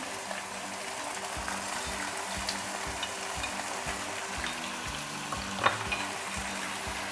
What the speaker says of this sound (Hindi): बस चिकन को कोशिश करें कि अच्छी तरह आपने भूनना है।